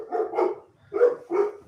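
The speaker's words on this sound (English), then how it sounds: "Those dogs are going a little nuts." Dogs at a house bark in a quick series of four loud, close woofs, in two pairs separated by a short pause.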